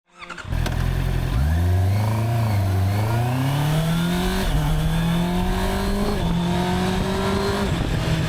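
A 2024 Honda CBR650R with E-Clutch revs hard and close, its engine note climbing, dropping at each clutchless gear change and climbing again through several shifts.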